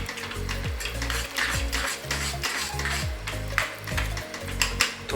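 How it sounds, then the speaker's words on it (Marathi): Besan batter for cucumber pithla being stirred in a pot, with repeated scraping strokes and light clinks of the spoon against the vessel over a steady low kitchen hum. "अजिबात ह्याच्यामध्ये लम्स राहता कामा नये. छान मिक्स करायचं आहे."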